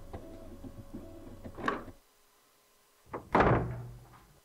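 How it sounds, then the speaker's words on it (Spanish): A door in the horror video game Murder House opens or shuts with a thunk partway through, followed by another louder knock and rattle near the end, set against a low ambient hum with a quiet stretch between. "He escuchado una puerta, ¿eh?"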